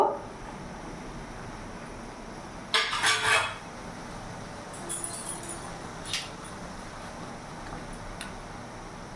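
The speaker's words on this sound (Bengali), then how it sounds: "এবার আমি ঢাকাটা খুলে দেখব।" A metal lid lifted off a covered pan of steamed paneer, one sharp clatter followed by a few lighter clinks and taps of cookware, close by with no talking.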